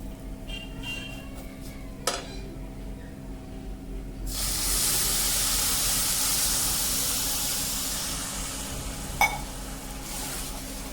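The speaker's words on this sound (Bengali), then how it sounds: "তো আমি এখানে এখন জল অ্যাড করে দেব।" Water poured into a hot pan of fried semolina for suji upma bursts into a loud, broad sizzling hiss that swells and slowly fades, with a few faint clinks of utensils.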